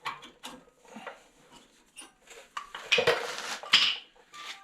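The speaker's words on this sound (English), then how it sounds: "Take our brake pads out." Metal brake pads pulled from a caliper on a 2005 Chevrolet Silverado during front wheel bearing work, heard as scattered close clanks, scrapes and metallic clicks, busiest and loudest near the end.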